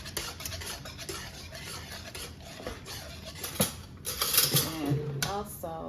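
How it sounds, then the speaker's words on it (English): Utensil scraping and clinking against a cooking pot while food is stirred, a run of close, irregular metallic taps and scrapes that grow busier toward the end. "And then just gonna stir."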